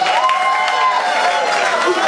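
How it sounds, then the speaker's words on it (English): An audience in a packed hall claps and cheers for a woman being honoured, loud continuous applause with crowd noise and voices mixed in throughout. "Please keep clapping for this wonderful lady."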